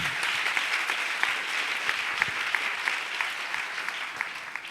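Church congregation applauding during a worship service, steady continuous clapping from a crowd throughout, fairly close and even in level.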